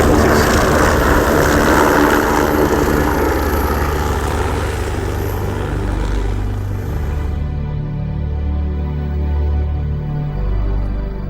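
Steady whirring rotor and engine noise of a helicopter, loud and continuous, the high hiss cutting away partway through while the low drone carries on.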